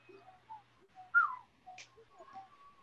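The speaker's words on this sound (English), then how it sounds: "Whistling." A person whistles in the stands at a 2012 NCAA Women's College World Series softball game between Alabama and Oklahoma, giving a few short, faint chirps and a rising note in a quiet crowd.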